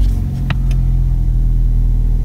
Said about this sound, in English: I think I need to turn the engine on.